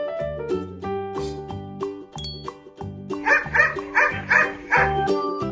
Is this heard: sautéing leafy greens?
no